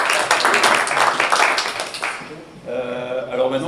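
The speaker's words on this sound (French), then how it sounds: "On peut applaudir un peu?" Audience clapping at a React Native developer meet-up in France, a burst of applause from a small group that fades after about two seconds, followed by a voice speaking.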